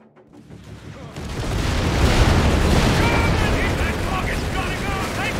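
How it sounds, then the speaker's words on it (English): A smoke barrage of artillery in the video game Company of Heroes 3 swells from near silence into a heavy, rumbling roar of booms and bursts that holds loud to the end. "Smoke barrage."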